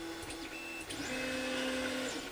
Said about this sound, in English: it's quite an inconspicuous printer. It'll just sit there in the background printing.